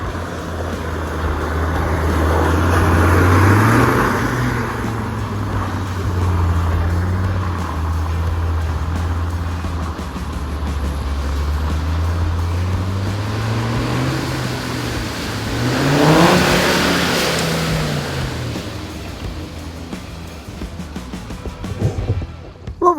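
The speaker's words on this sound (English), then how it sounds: "Ben's diff there, look, dragging his diffs through there." 4x4 off-roader crawling through deep muddy ruts on a Shropshire green lane, its differentials dragging: a close, low engine drone that swells and eases with the revs, continuous throughout with no talk.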